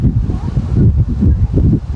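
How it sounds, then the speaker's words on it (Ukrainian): Strong wind buffets the microphone on a beach by a bay, a loud continuous low roar with gusty surges and no voices. "може бути щось зі звуком, бо сильний вітер тут"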